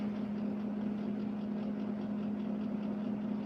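A van engine idles steadily with a constant low hum and even rumble, with no voices over it.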